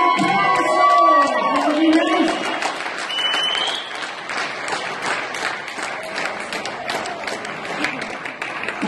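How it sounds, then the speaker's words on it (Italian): Concert audience applauding at a tribute show, a dense wash of clapping that stays steady for several seconds, with some music or voices mixed in at the start. "Un grandissimo applauso"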